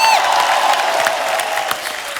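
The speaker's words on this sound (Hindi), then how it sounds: "जोरदार तालियां हो जाए।" Studio audience applause on the Kapil Sharma Show, a loud, dense burst of clapping with some cheering that holds steady and slowly tapers, close and filling the room.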